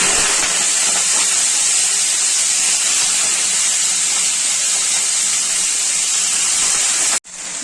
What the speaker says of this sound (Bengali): মাছগুলো ভাজা হচ্ছে আর এদিকে কড়াইতে পেঁয়াজগুলো ভাজা হচ্ছে